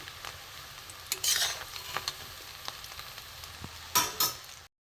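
Quiet frying of fish roe fritters with soft crackles and a few louder bursts of sizzling and stirring, close by, no voices.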